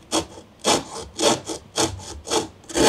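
A small coping saw cuts through wood in about six steady, rhythmic strokes, each a close, rasping burst with short pauses between.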